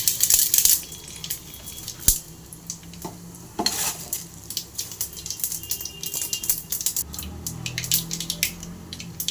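Mustard seeds crackle and pop in hot oil in a pan for a Tamil egg curry, with scattered bursts of sizzle and a few clanks of utensil against the pan, close and fairly loud.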